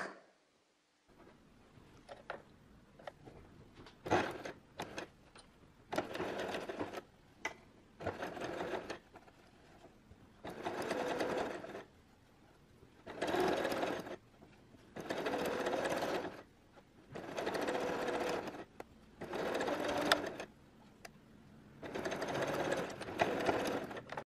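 Piping is stitched between two fabrics on a sewing machine, heard as repeated bursts of steady mechanical whirring, each a few seconds long, separated by short quiet pauses, close and clear with no talking.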